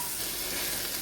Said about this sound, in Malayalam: നമുക്ക് ഈ അരി ഒന്ന് ഫ്രൈ ചെയ്ത് കൊടുക്കാം കേട്ടോ